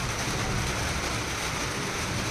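Heavy rain falls outside in a steady, dense hiss that stays constant throughout, heard from indoors with no voices.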